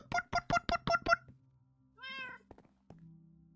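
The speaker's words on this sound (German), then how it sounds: "Wir haben eine Katze." A Minecraft cat meows in a rapid run of six short, bright calls, then gives a longer drawn-out mew, followed by a few soft thunks from the game.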